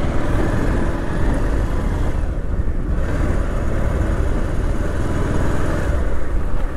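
A BMW car on a Mumbai street, heard as a steady, loud engine and road roar with constant traffic noise throughout, no voices.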